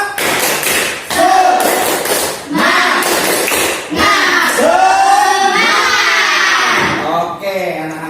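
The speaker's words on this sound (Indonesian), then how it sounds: "Kalau gitu kita harus tepuk semangat" Children perform a spirit clap in a lively rhythm of repeated hand claps and taps, mixed with energetic group voices and shouts throughout.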